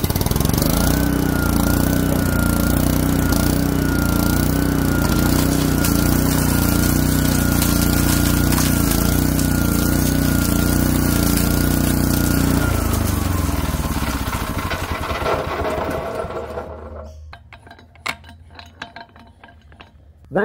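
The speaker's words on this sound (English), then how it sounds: "So what I'm going to do is run these through my crusher." A big rock crusher grinds chunks of quartz with a loud, continuous mechanical roar and rattling clatter, then winds down and fades into quiet with a few scattered clinks near the end.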